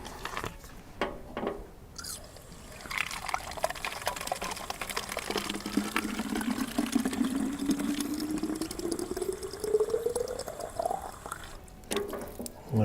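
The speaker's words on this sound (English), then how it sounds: "The farther you turn the spigot, the faster the water comes out." Water runs from a campsite spigot into bottles outdoors, a steady gushing fill whose pitch climbs as each bottle fills, with a few knocks and clicks around it and no talk.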